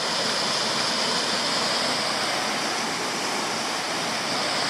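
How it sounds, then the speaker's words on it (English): A waterfall on the Leeaberra Track pours into a pool, making a steady, loud, broadband rush that stays constant throughout, with no voices. "However, the falls really do make up for that fairly nasty hike."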